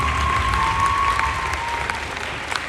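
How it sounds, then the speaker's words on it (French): Audience applause for pageant candidates at a televised final-results ceremony, a steady wash of many hands clapping that carries through the full stretch with no voices over it, a faint tone lingering beneath. "j'aimerais qu'on applaudisse très très fort toutes les candidates qui n'ont pas démérité"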